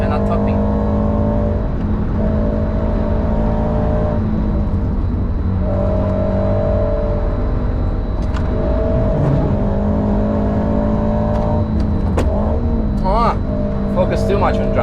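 A Subaru BRZ track car lapping the Nürburgring, its engine droning steadily with rising and falling revs through a downshift into third, loud and close from inside the cabin, with tyre and wind noise beneath.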